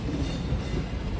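Sabari Express train passing at Secunderabad station, a continuous loud low rumble and rolling rattle of rail cars, heard up close with no speech.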